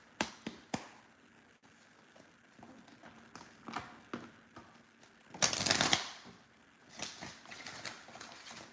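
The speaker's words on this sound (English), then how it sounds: "you see how like the cards did not want to shuffle" Playing cards are shuffled by hand, sharp riffling bursts and taps scattered across the clip, with one longer, louder riffle near the middle.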